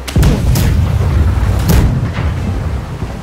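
Heavy cannon booms from a naval ship battle in the Blackwake game, several deep blasts within a few seconds overlapping into a loud continuous rumble.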